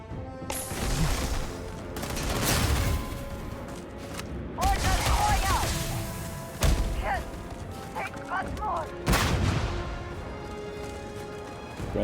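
Heavy explosive bursts and crashing impacts from grenades in the sci-fi game Starfield, with several loud broadband blasts spread across a busy combat scene and a voice speaking intermittently underneath.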